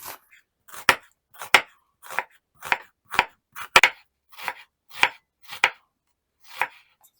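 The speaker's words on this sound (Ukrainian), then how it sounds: "Цибулю буду різати дуже міленько." An onion being finely chopped with a knife on a board, about a dozen crisp, evenly spaced thuds up close, alone without talk.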